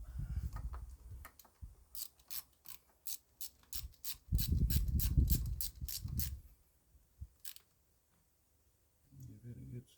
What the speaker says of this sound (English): Take our ratchet.